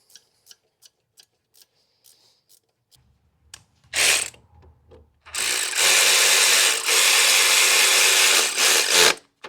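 A ratchet tightening the 14mm and 12mm alternator bolts on a 2.4L Toyota engine, with slow isolated clicks at first, then a short burst and a long, steady, loud stretch of rapid ratcheting.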